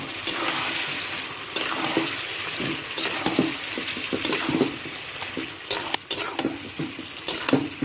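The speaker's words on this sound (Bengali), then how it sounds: "জলটা দিয়ে ভালো করে কষিয়ে নেব।" Desi chicken curry sizzles and sautés in a pan after water is added. Steady frying hiss sounds throughout, with scattered stirring scrapes and clinks, close and fairly loud with no talking.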